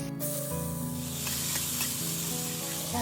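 Cumin seeds, cashews and almonds fry in hot oil for a wedding-style sweet fruit pachadi, giving a continuous close sizzling hiss with faint crackle throughout.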